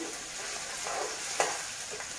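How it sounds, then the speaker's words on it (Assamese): Onion and garlic frying in oil for a jackfruit curry give a steady, soft sizzle with a single sharp tap of a utensil midway. "এয়া পিঁয়াজ দিলোঁ দুটা কাটি, ভাজি লৈছোঁ"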